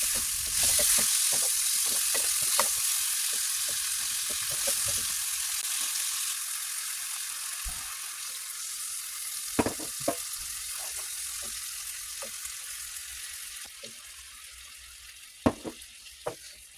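Salmon pieces with spices fry Bengali style in a pan, a loud sizzle at first that settles into a softer hiss, broken by sharp clicks and taps of a utensil, with no talking.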